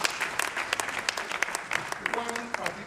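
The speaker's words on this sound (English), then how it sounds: "Can we give him a round of applause?" Audience applause after an alumni lecture, a dense patter of many hands clapping steadily and fairly close, with sharp individual claps standing out and a faint voice near the end.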